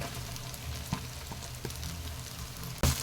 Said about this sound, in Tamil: தக்காளி ஓரளவு சாஃப்ட் ஆகிற வரைக்கும் நல்லா வதக்கிக்கலாங்க